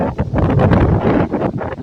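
Loud, fierce typhoon wind roars and buffets the microphone continuously, gusting without a break.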